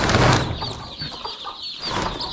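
Village hens and newly hatched chicks in a rural Konkan poultry yard cluck and peep continuously at close range, with layered chirps and soft chatter throughout and no talk.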